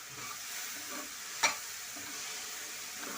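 Shredded cabbage with turmeric and salt frying in a pan makes a quiet, steady sizzle, with gentle stirring scrapes and one sharp clack of the spoon partway through.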